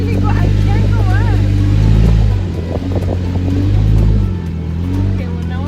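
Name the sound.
car engine revving while off-roading uphill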